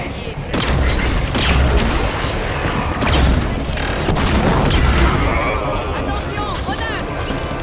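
Halo 5: Guardians campaign combat on Legendary, dense booming explosions and gunfire rumbling continuously, loud and close, with voices talking over the battle.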